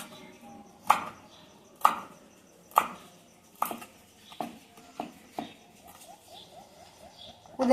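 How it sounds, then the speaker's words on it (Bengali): A knife finely chops mint leaves on a cutting board, about eight quiet, crisp thuds at a steady, unhurried pace, each followed by a short gap of near silence. "এখন পুদিনা পাতাগুলো কুচি করে কেটে নেব।"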